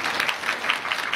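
Wedding guests clap briefly, a dense burst of crowd applause at moderate volume.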